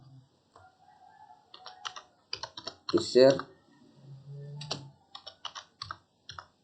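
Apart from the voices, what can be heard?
typing on a computer keyboard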